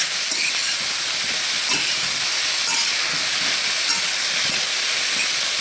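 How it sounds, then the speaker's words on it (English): Vegetables and garlic stir-frying in a hot pan give off a steady, loud, close sizzling hiss that runs unbroken for several seconds, with no talking over it. "You want to stir fry it."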